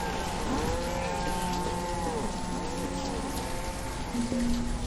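Cattle mooing in the video game Banished, several drawn-out, gliding moos overlapping at moderate distance over a steady rain-like ambient wash.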